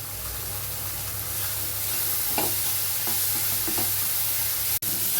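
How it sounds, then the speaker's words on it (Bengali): Spice paste sizzles and fries in a pan with chopped tomato and Kashmiri red chili, a soft steady hiss punctuated by a few stirring scrapes and a sharp click near the end. "মশলাটা ভালো করে কষাবো"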